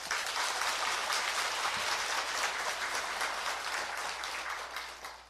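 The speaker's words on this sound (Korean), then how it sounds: "박수 한번 더 주시세요" Sustained applause from the congregation at a Buddhist dharma sermon at Doseonsa temple, a dense, even wash of clapping that holds steady for about five seconds and tapers slightly at the end, with no voices over it.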